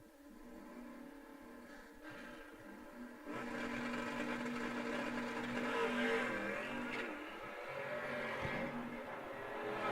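Dodge Challenger and Ford Mustang launching side by side at an old-time drag race, a distant engine roar that jumps louder a few seconds in and holds a sustained high rev, with no talk.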